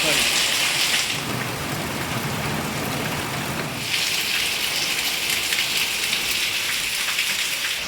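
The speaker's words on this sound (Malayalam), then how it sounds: "സൂപ്പർ മഴ" Heavy rain pours steadily throughout, a dense hiss with a deep rumble of thunder rolling underneath in the first few seconds; no voices.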